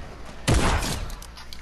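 Sniper gunfire in a video game: a single sharp, loud broadband crack with a short rumbling tail, standing out over a quiet game background.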